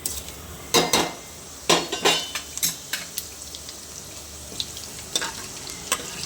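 Spices go into hot oil in a pan for an Indian potato and soya chunks gojju, with a faint sizzle under a series of sharp metallic clinks and scrapes of a utensil against the pot.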